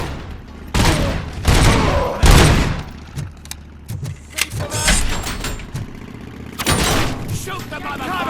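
Rapid gunfire rattles through a firefight in the video game Robocop: Rogue City, loud bursts and single shots crackling in irregular clusters, with a voice shouting orders over the shooting.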